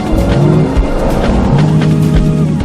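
An environment-friendly gas-powered car from Innocent Vehicles drives hard, its loud engine roaring under repeated tire squeals and skids, with no talk.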